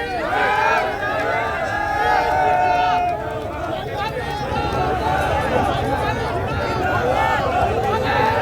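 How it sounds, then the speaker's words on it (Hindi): Crowd of protesters, some carrying swords, in a street confrontation with police, a dense continuous roar of many voices with rhythmic shouting and chanting layered throughout. "नारे लगाती हुई भीड़"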